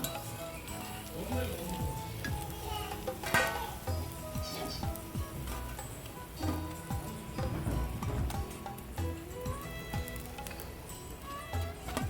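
White sorghum paniyaram fry in oil in a pan, a soft steady sizzle with occasional light clinks and scrapes of a utensil, fairly quiet and close, with a voice speaking over it.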